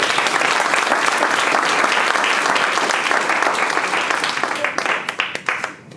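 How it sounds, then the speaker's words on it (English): An audience at a youth entrepreneurship challenge applauds the contestants with dense, loud clapping that fills the room, then thins into scattered separate claps as it dies away. "So give yourselves a round of applause."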